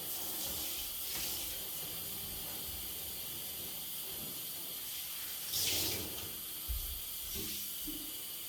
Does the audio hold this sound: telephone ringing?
no